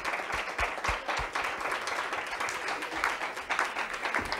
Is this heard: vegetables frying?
no